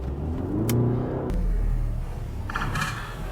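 A 2-litre diesel Skoda Kodiaq family SUV launches hard with launch control, a loud close engine rumble rising into acceleration, with a sharp click and a brief whine near the end, no talking.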